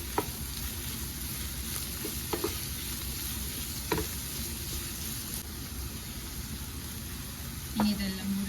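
Carrot, capsicum and broccoli stir-frying in a hot pan give a steady, close sizzle, with a few brief scrapes and clinks from stirring and no talk.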